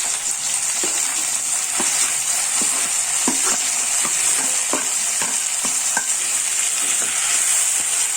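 Chopped onions frying in oil in a pan after mustard seeds have popped, a steady bright sizzle with scattered crackles and pops and occasional stirring scrapes, close and continuous without talk.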